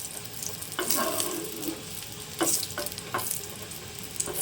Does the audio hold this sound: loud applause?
no